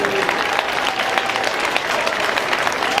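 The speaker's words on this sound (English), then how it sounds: "Give her a big round of applause, ladies and gentlemen." Crowd applause at a professional wrestling show, dense clapping throughout with some sharper individual claps, steady and fairly loud, with no voices heard over it.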